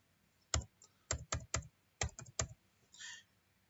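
About eight crisp keystrokes tapped on a computer keyboard in a quiet room, irregular and close, with a faint brushing sound at the end.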